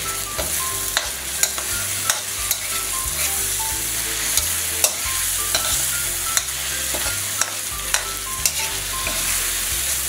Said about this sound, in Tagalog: At halu-haluin na natin